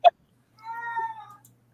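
A house cat lets out a drawn-out, wavering meow after a short sharp click, fairly close and alone without talk.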